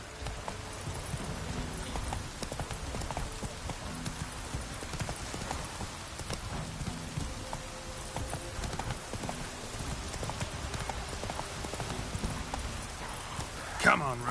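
Roach the horse galloping in The Witcher 3, rapid rhythmic hoofbeat clip-clops continuing steadily, with game sounds and someone talking over them.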